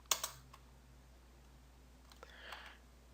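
A single computer keyboard key, the enter key, is pressed in a quiet room, giving a couple of sharp close clicks at the start and faint soft taps later, no voices.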